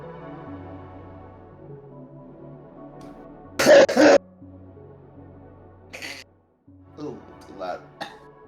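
A person coughs twice in quick succession, loud and close, between stretches of quiet talking.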